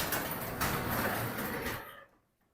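A garage door rolls along its track during a balance check, a steady broadband rumbling and rattling that runs for about two seconds and then stops, leaving near silence.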